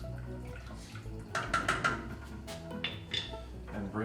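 Water in a pot being stirred for faux pho, with scattered metallic clinks of a utensil against the pot and soft sloshing, close by, with brief talking underneath.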